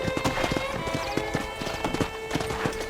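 Horse hooves clip-clop in a steady, brisk rhythm on a ranch in the Red Dead Redemption video game, close and fairly loud, with quieter ambient game sound beneath.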